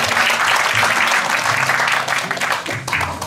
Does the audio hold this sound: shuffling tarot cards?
no